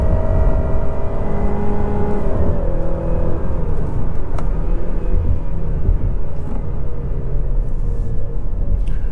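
A 2020 Honda Civic EXL engine revs after a downshift to second gear with its CVT, a loud, close, continuous rumbling whir that rises and shifts in pitch throughout, with no talking over it.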